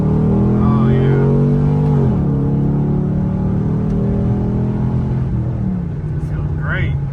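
Engine of a Chevrolet Camaro SS pulls loudly through second gear, a steady rising drone with a shift dip near two seconds, while people talk over it inside the car.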